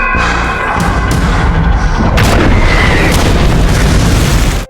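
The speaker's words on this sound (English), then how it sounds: "radio has also picked up the sound of an explosion, and it sounds like it's a proximity detonation" Deep explosion booms from a proximity detonation, a loud sustained rumble with heavy thuds throughout and a sharp burst past two seconds, then a sudden cut-off.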